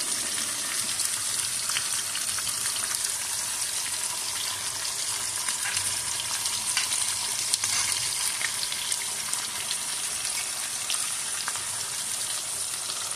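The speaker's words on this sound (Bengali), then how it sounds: "সমস্ত মশলাগুলো একসঙ্গে মিশিয়ে নেব" Ginger-garlic paste, poppy seed paste and chopped green chillies mixed together in a frying pan for a potato-poppy seed tengra fish dish, giving a steady, continuous sizzle with faint scraping of stirring throughout, close and even, with no talking.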